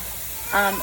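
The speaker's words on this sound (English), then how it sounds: "now that we have a steady stream of steam coming out of the canner" Steam hisses steadily from the vent valve of a pressure canner processing peas, a short close burst that swells after a quiet start.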